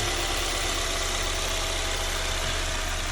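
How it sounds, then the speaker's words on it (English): A 2015 Ford Mustang EcoBoost engine idles close by with a steady, continuous rumble and hum, unchanging throughout. "you got to let the engine idle for a little bit"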